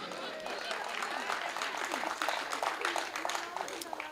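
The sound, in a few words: audience clapping at a comedy poetry show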